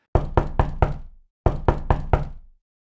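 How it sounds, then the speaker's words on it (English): Knocking on a wooden cabin door in a forest at night: two sharp, close groups of four raps each, separated by a short pause, loud and ringing with a brief echo. "3 slow knocks echoed through his cabin door."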